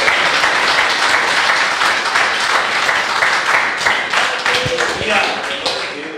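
A church congregation claps and applauds steadily throughout, a dense wash of hand claps with some voices mixed in and a few sharper taps near the end.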